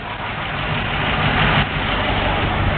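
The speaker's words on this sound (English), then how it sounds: "So we've just started your engine." A freshly started engine, its choke just adjusted, runs at a steady, loud, close idle with a constant rumbling drone and no talking.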